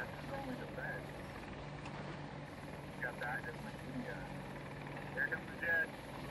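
A helicopter flies in the Battlefield 2042 video game, giving a steady rotor and engine drone at moderate distance. Brief sharper game sounds pop up over it near the end.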